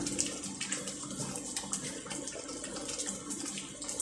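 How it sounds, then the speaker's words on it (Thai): Tamarind chili sauce boiling in a pot, a steady bubbling, gurgling wash of liquid noise that stays fairly even throughout, close by and with no talk. "เดือดแล้ว"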